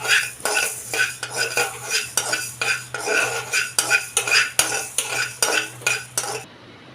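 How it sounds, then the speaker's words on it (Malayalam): Fenugreek seeds dry roast in a kadai while a metal spoon scrapes and clinks against the pan in a quick, steady rhythm, close and loud with a low hum underneath. "ഇപ്പോൾ വെന്തയം നല്ലതായിട്ട് ഒരു ഡ്രൈ ഫ്രൈ റോസ്റ്റ് പോലെ നമ്മൾ ഫ്രൈ ചെയ്തേക്കാം."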